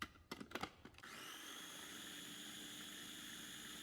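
A few clattering knocks, then a blender starts and runs at a steady high whine, pureeing cooking oil with fresh parsley, fairly quiet and continuous.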